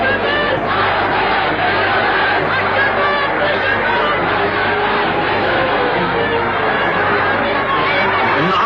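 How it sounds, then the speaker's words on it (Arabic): Crowds at street demonstrations in an old newsreel recording, a dense, steady roar of massed voices chanting and shouting without a break, thin and muffled in tone. "في كل شارع مظاهرة، وعلى كل لسان هتاف"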